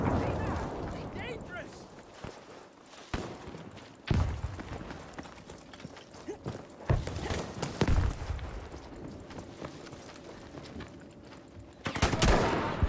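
Battlefield V video game gunfire: sharp bursts and scattered shots cracking out at intervals, some in quick clusters, set against a busy battlefield rumble, while players talk over it.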